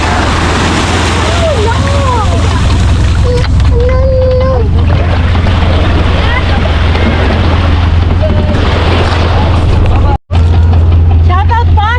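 A boat motors across the water off Camp Kawayan Beach in Zambales, Philippines, with steady engine drone and wind rushing past, while several people talk and call out loudly over it.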